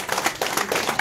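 Audience applause welcoming Ghulam Ahmed Khan at a political joining event, a brief burst of crowd clapping that stays dense and steady.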